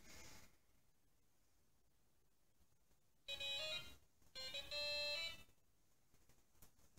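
An indoor air quality monitor alarm chirps in two short bursts of tonal beeps, separated by a brief pause, fairly faint against a quiet background.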